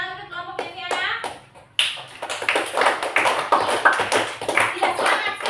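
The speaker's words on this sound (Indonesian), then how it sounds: "tepuk tangan untuk kelompoknya Viana" Students in a classroom break into lively applause for a classmate's group after a short spoken line, the clapping dense and close.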